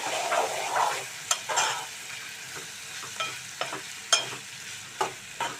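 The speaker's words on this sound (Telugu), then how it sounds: "అల్లం పచ్చివాసన పోయే వరకు మనం వేయించుకుందాం." Ginger fries in a hot pan with oil, a soft sizzle underneath as a spoon stirs and scrapes, giving intermittent sharp clinks against the pan's metal surface at irregular intervals.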